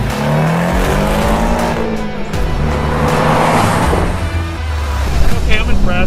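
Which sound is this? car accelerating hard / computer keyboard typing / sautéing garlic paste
car accelerating hard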